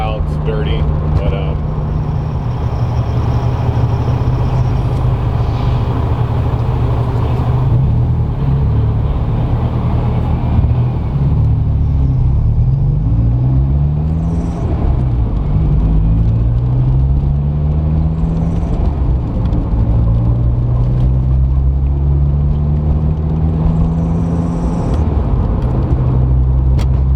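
A turbocharged B18B engine in a Honda Civic EF sedan drones steadily from inside the cabin while driving, its low tone rising and falling through gear shifts, with voices occasionally over it.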